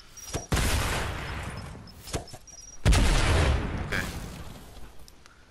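Sticky bomb blasts in Fortnite on PS4, two heavy booming explosions with rumbling tails between sharp gunfire pops, loud and close, with a brief word spoken.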